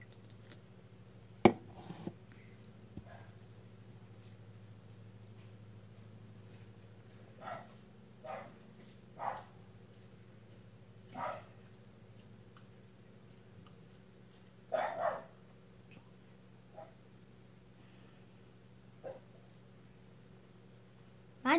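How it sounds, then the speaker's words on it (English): Several dogs bark in short separate bursts spread across the stretch, moderately close, over a steady low electronic hum with no talking. "My dogs are loud."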